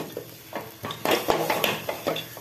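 Chicken with spices being sautéed in a pan, a spatula scraping and clattering against the metal in short irregular strokes over a faint sizzle, close by.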